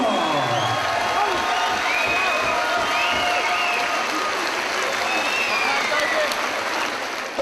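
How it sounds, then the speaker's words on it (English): A crowd at a caged K1 kickboxing event applauds and cheers both fighters after the bout, loud continuous clapping with whoops and whistles rising over it, sustained throughout. "let's have a round of applause for both fighters"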